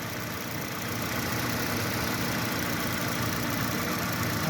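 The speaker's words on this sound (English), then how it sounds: "Okay, with the motor running." A 2022 Hyundai Tucson engine idles steadily up close, a constant mid-pitched mechanical hum and rumble with no change in speed.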